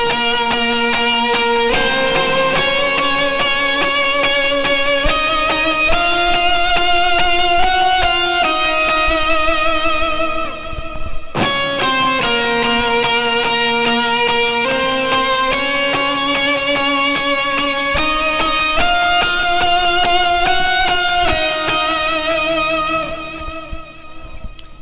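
Distorted electric guitar lead part, shaped on a Line 6 Helix/HX Stomp with added low and high octaves, sustaining over a full band in a steady, loud, continuous line with no talking.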